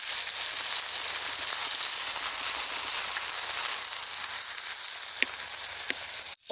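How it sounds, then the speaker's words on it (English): Freshly caught fish fry in a hot pan, a steady loud sizzle and crackle with a few sharper pops, close up and without talk. "They are sizzling."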